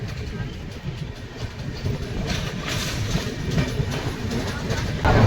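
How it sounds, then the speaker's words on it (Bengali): A Bhubaneswar–Howrah Jan Shatabdi Express pulls out of Jaleswar station, giving a steady low rumble of rolling rail cars with faint clattering, heard from on board and growing slightly louder toward the end. "জলেশ্বর স্টেশন থেকে বেরিয়ে যাচ্ছে আমাদের নিয়ে ভুবনেশ্বর হাওড়া জনশতাব্দী এক্সপ্রেস"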